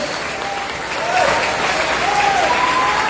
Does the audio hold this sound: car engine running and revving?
no